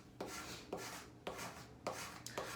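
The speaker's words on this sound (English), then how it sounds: "I can just use my scraper tool to really burnish that down." A scraper tool burnishing transfer tape down onto a spice jar, making five quiet, evenly spaced rubbing strokes, each starting with a soft scrape.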